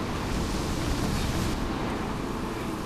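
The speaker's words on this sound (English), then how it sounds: "we're plowing through massive waves that conceal marauding icebergs" A sailboat plowing through massive storm waves in icy waters at night, a continuous loud roar of surf and wind noise rushing over the microphone with no break.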